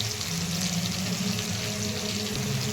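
Pieces of ridge gourd frying in oil with tomato and curry leaves, giving a steady, close sizzle that stays even throughout with no voices.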